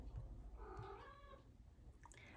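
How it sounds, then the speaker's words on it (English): A pet cat meows once indoors, a soft, faint, drawn-out call set back in a quiet room. "if you hear my kitty in the background, she's just saying hi"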